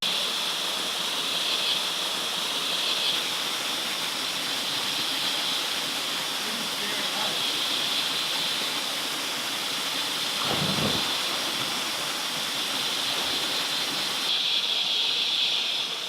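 Steady broadband rush of a waterfall at Mt Maroon, continuous and fairly loud throughout, with a brief low thump partway through and no talking.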